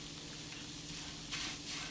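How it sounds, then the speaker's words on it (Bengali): Shutki, dried fish, dry-frying in a pan as it is turned and stirred, a faint soft sizzle with light scraping swells near the end, no voices. "এপিট ওপিট করে সুন্দর করে নেড়ে নেড়ে টেলে নিচ্ছি"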